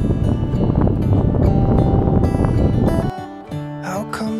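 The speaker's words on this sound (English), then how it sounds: "it's so windy out here." Strong wind buffeting outdoors in Tierra del Fuego, Argentina, loud and gusty against the microphone for about three seconds before dropping away as music takes over.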